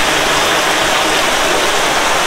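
Garden fountains at Saheliyon ki Bari in Udaipur pour water in a steady, dense hiss like heavy rainfall, loud and continuous with no break.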